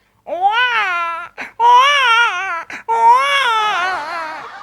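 A man imitates a crying baby, voicing three wailing, wavering cry phrases with brief breaks between them, close and fairly loud, with no other sound behind them.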